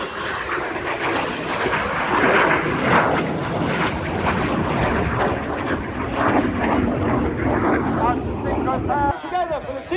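Red Arrows jets of the RAF Aerobatic Team roar overhead at the Cosford air show, a loud sustained engine rumble rising and falling with an announcer talking over the PA and crowd noise.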